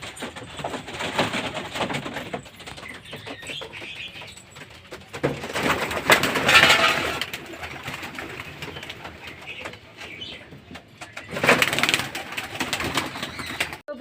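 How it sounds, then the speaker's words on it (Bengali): Pigeons being released to fly from a home loft: faint cooing and bursts of wing flapping rise twice, against a background where people talk quietly. "আজকে হচ্ছে আমাদের নতুন পায়রা থেকে 5টা পায়রা ওড়াবো"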